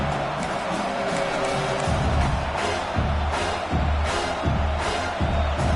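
Stadium crowd in an NCAA college football video game roars steadily on third down, a dense, loud swell with rhythmic low stomps or drum thumps pulsing underneath.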